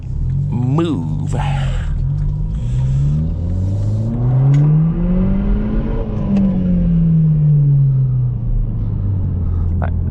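A car's intake roars loudly as the engine climbs through the revs, falls back, then sweeps up and down again. The sound comes from inside the cabin on an empty road in Belgium.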